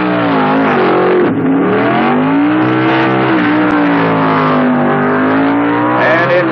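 Drag racing cars at the 1970 NHRA U.S. Nationals, a Chevy II and a Camaro, roar loud and close in a sustained high engine howl whose pitch climbs and shifts as they accelerate down the strip.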